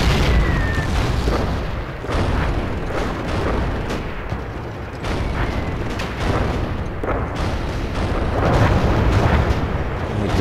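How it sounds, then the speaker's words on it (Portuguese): Grenade explosions and gunfire from the PSP game Call of Duty: Roads to Victory form a dense, continuous barrage of booms and bursts, loud and close, with no voices over the battle. "pra cima ele joga granada"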